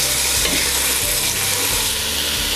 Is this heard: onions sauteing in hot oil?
yes